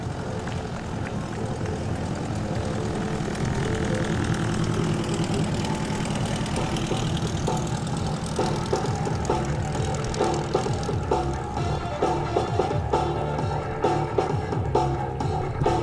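A Vans RV-8A propeller airplane taxies at an air force base air show, its engine droning and pulsing steadily nearby, growing slightly louder and rougher toward the end.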